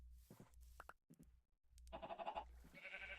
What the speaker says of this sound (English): Oh, it's that sheep again.